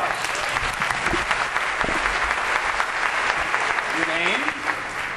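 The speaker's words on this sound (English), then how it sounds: "Give them a round of applause." Theatre audience applauding for volunteers at a Broadway-style stage show, sustained crowd clapping with voices over it near the end, where someone speaks briefly.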